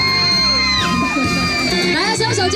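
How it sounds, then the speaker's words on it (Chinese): Concert crowd at an outdoor temple cultural festival in Minxiong, Chiayi, yelling, whooping and shouting loudly and continuously, with a high sung or shouted voice sliding over the noise. "尖叫声呢？ 欢呼声呢？ 呐喊声呢？"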